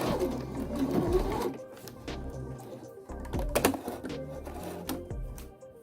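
A sewing machine stitches pockets onto a coat made from vintage blankets, running in close, fast bursts of needle chatter with brief pauses between seams.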